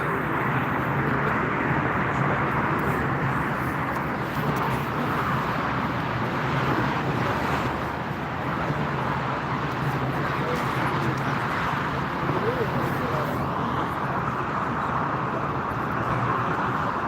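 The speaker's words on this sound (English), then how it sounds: "Boeing 777, Lufthansa cargo arriving from Istanbul." A Lufthansa Cargo Boeing 777 arrives at Frankfurt Airport from Istanbul: a steady, broad jet roar holding level throughout, somewhat distant, mixed with wind rumble.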